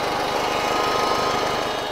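An IH Farmall 140 tractor engine runs loud and close with a steady, even chugging pulse and a dense mechanical rumble, heard on its own without talk.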